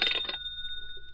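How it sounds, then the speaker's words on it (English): A telephone ringing in a quiet room, one short electronic ring with steady twin tones that carry on after a brief burst of sound, then fade into low background hum. "forget the rest of the interrogation until the next morning when the phone rang again"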